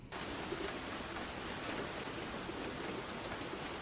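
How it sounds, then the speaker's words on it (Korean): Steady, dense rainfall in a scene from the Chainsaw Man movie, a continuous even hiss of rain with no clear individual drops and no voices. "그리고 다시 내리는 비."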